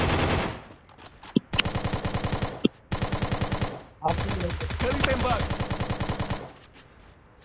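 Rapid bursts of automatic gunfire in a mobile shooter game, loud and close, broken by short pauses and single sharp shots, with a voice faintly underneath.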